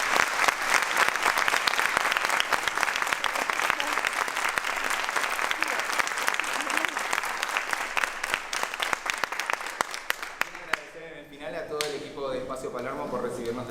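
An audience applauds at an event, dense sustained clapping that carries on for several seconds before thinning into scattered claps, with faint murmurs as it fades.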